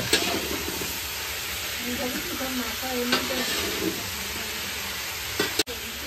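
Aloo dum being stirred and sizzling in a pan on a lit gas stove, a steady close frying hiss with scraping stir strokes throughout and a faint voice in the background.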